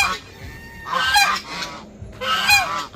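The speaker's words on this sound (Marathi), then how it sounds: "ते बदक आहे, बदक." A duck (identified in the talk as a duck) honks in two loud, close bursts about a second apart, with a quieter pause between them and no one talking over it.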